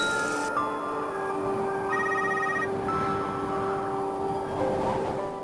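A phone rings in short trilling bursts in a snow-covered isolated house, over a steady background of music and ambient noise, the ring fairly prominent in the mix.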